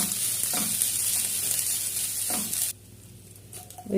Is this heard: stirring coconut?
yes